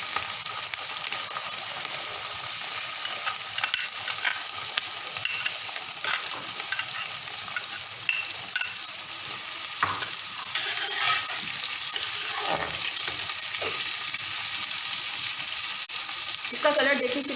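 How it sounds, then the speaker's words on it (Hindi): Vegetables and chicken frying together in a pan, with a dense, constant sizzle throughout, plus occasional scraping and clinking from stirring. No one speaks. "सब्जियां और चिकन एक साथ ही फ्राई कर लेंगे।"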